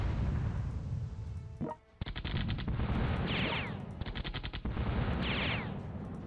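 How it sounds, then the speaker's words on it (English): Fireworks thrown during a video game battle crackle in loud, rapid bursts, nearly continuous, with a short lull and repeated rattling volleys of sharp pops. "they're throwing fireworks at us."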